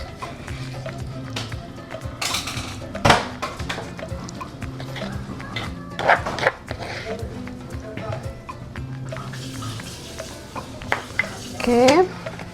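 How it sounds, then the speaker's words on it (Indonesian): Noodles are stirred into Indonesian pecel in a bowl, with clinking utensils scraping against the dish in uneven taps and bursts while people talk throughout. "Dia mau sedikit mie. Oke, kita aduk."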